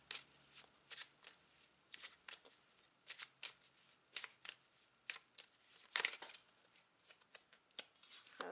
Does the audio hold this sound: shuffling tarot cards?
yes